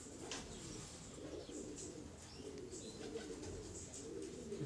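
A Zurita pigeon cooing close by in a loft, soft repeated throaty coos rising and falling across the stretch, with light chirps from other birds in the background.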